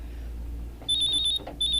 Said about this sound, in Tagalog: Ang akong cellphone.